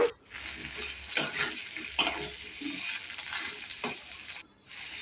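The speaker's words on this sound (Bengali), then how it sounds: "কাঁঠালের দানাটা দেখো ভাজি এর মধ্যে দিয়েছি আমি কাঁচা লঙ্কা রসুন আদা" Boiled jackfruit seeds with green chilli, garlic and ginger fry in a pan, giving a steady close sizzle with a few sharp stirring scrapes and a brief quiet gap near the end.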